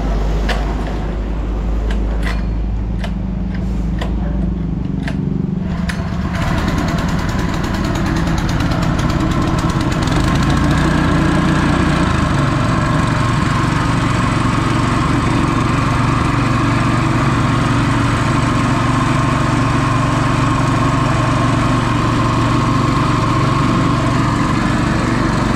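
A new engine runs steadily at close range, a loud continuous rumbling drone with a slight knocking texture that holds for the whole stretch without talk.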